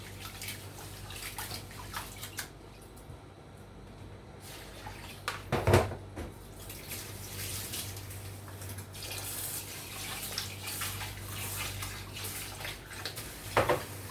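Tap water runs steadily while rice is rinsed in a home kitchen, a soft continuous wash with one louder splash or clatter midway and another near the end.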